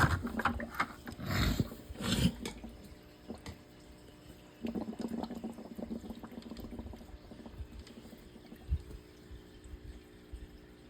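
Water being changed in a fish tank sloshes and pours in irregular bursts, with rattling, clicking handling noises between splashes, close and fairly quiet.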